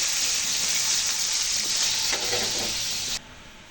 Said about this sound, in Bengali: আমি হচ্ছে এখানে পেঁয়াজ আর মরিচটা একটু ভাজা ভাজা করে নিতেছি